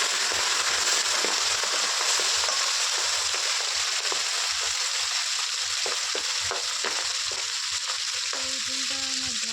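Fish frying in hot oil spread across a pan, a steady loud sizzle with scattered crackles and pops running throughout, no voices.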